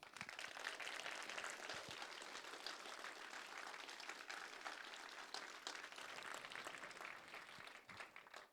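A conference audience gives sustained applause for event sponsors, a steady wash of clapping that sounds faint and distant throughout.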